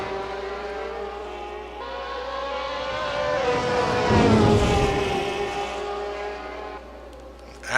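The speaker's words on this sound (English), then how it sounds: "As you hear the screaming engines of the high revving Corvette 458." High-revving racing car engines from the video game Gran Turismo scream steadily at Monza, swelling louder as they pass close by, then trail off into the distance.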